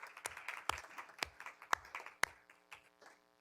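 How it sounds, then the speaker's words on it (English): A small group claps briefly at a school board meeting, with several sharp, distinct hand claps standing out over a scattered patter that fades away after a few seconds. "that's a round of applause"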